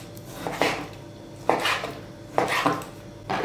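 A knife chops cooked chicken on a board in a home kitchen, four distinct cutting thuds spaced roughly a second apart, close and fairly quiet.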